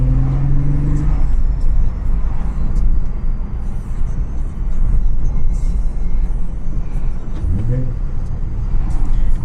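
A 2004 Acura TL with a V6 engine cruising through a suburb, giving off a continuous low rumble and road drone for the whole stretch, with a few faint passing noises in the background.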